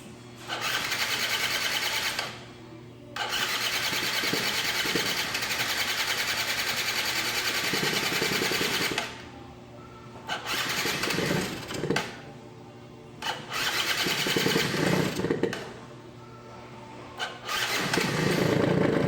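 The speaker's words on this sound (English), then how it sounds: "Let's see if this thing fires up." A Yamaha Zuma scooter with a freshly shaken carburetor starts and runs loud and close, its buzzing engine revving up and dropping back in several bursts with short lulls between.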